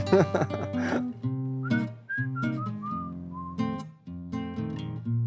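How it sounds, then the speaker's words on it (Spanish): A person whistles a lively melody, clear and close, with sliding pitches and short phrases, no talking. "Miriam Duque odia los silbidos"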